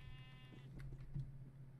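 Sheep bleating in the video game Minecraft, a wavering bleat in the first half over a steady low electrical hum, with a brief second call near the end.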